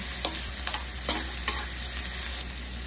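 Green chili and tomato sautéing with garlic in a pan, a steady close sizzle with a few soft stirring scrapes.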